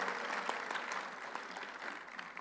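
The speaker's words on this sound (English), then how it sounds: "still a round of applause for their presence" An audience at a global education meeting gives a round of applause, with steady, dense clapping throughout.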